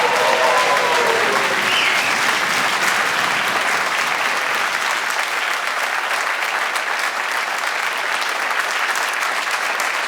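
Audience applause closing a live cooking show demonstration, a dense, loud, even wash of clapping that holds steady for about ten seconds with no voices.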